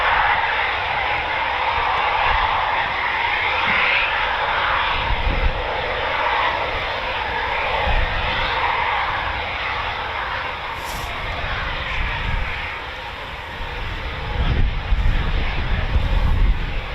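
A Eurofighter Typhoon FGR4 jet at RAF Coningsby, a steady broadband engine roar that stays loud and fairly constant throughout, swelling slightly near the end as it passes, with no talking.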